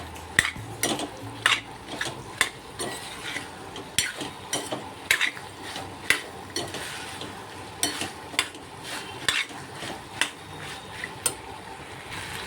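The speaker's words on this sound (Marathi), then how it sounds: "आता हे बघा व्यवस्थित मिक्स करून घेऊया" Green pea and potato curry, Kokan style, being stirred in a pan: a spoon scrapes and clinks against the metal in a loose, repeated rhythm over a soft frying sizzle, close and fairly quiet, with no talking.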